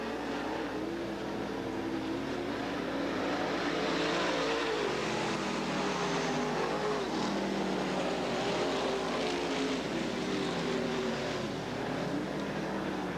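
Outlaw race cars battling on the Southern Oregon Speedway oval, a dense, continuous roar of several engines rising and falling as the pack circles, heard from a moderate distance and steady throughout.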